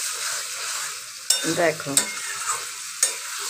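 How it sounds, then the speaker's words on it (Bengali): A spatula stirs aloo lote fish curry in a sizzling pan, with sharp metal scrapes and clatters over steady frying hiss; a voice briefly speaks. "এবারে একটু নেড়ে দেবো খুন্তি দিয়ে।"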